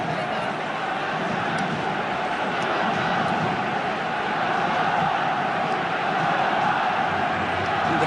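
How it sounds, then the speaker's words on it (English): Stadium crowd at Camp Nou in Barcelona during a Copa match, a dense roar of cheering and chanting that holds steady and swells slightly near the end, with no voices standing out. "Crowd doing their bit now"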